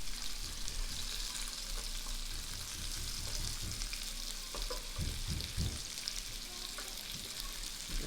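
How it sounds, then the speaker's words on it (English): Potatoes fry in oil in a pan, giving a constant loud sizzle. Several dull knocks and scrapes about midway suggest the pieces are being pressed down. "Potatoes absorb a lot of oil when they're cooking, and we want them to be really crispy."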